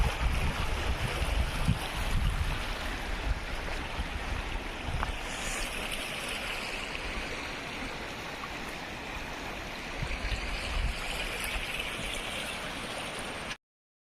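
Water pouring at Barabakhra waterfall near Barga, a steady rushing roar close by with low rumble, unbroken for the length of the clip before cutting to silence.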